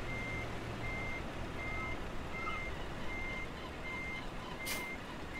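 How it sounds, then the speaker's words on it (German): Reversing alarm on a truck in Euro Truck Simulator 2, regular evenly spaced beeps over a low engine rumble, with a short hiss near the end. "So rückwärts fahren."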